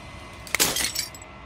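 A glassy fragment shattering in the Slay the Princess video game, one sharp breaking crash with bright tinkling shards scattering for about half a second before fading into quiet.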